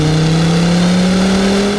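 A 2005 Volvo V70R with a 300-horsepower engine accelerates at full throttle, its loud, steady drone rising gradually in pitch, heard from inside the car with no talking.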